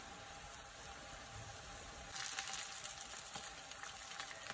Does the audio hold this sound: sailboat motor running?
no